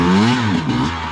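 An enduro motorcycle engine revs and accelerates up close, a loud rising then wavering mechanical roar with some clatter, no talk over it.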